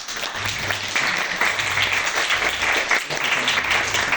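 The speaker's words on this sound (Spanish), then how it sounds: "para quienes pido nuevamente aplausos" Steady, dense audience applause at a literature conference on new Arequipa writing, filling the room evenly and loudly for its full length with no voices over it.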